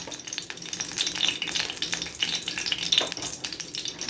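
Chopped small onion and three or four garlic cloves hit hot oil in a pot for Egyptian koshari, with steady close sizzling and crackling that pulses as the pieces are stirred.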